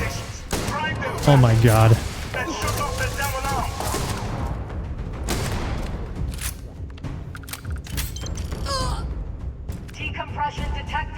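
Spaceship fleet gunfire in the space combat of the video game Starfield, scattered bursts of weapon fire and booms over a dense droning battle backdrop, with someone talking through it.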